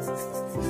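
Sandpaper rubs across a rubber inner tube during a vulcanizing repair, one short, close, raspy scraping stroke lasting under a second, with no voice over it.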